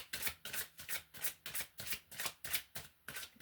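Tarot cards riffle-shuffled over and over in a steady rhythm of about two bursts per second, each a crisp papery flutter, close and fairly loud, with no talking.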